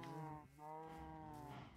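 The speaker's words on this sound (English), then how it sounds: "I already have enough cows." Cow mooing in the video game Minecraft, a faint drawn-out low moo heard twice in a row with a brief break between, alone without talk.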